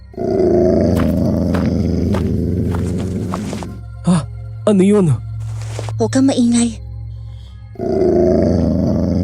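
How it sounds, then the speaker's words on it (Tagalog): A deep, rough growl from a fierce wild animal rumbles loudly in sustained bursts. Anxious voices speak between the growls. "may marinig na angil na animoy nagmumula sa isang mabangis na hayop"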